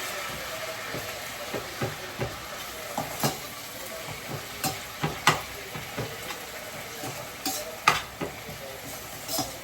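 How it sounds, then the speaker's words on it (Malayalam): Drumstick leaves frying and being stirred in a pan for a curry, with a steady broadband sizzle and irregular scraping clicks of a utensil throughout, fairly close and moderate in level, no talking. "ഇല ചെറുതായിട്ടൊന്ന് വാടിയാൽ മതി കേട്ടോ."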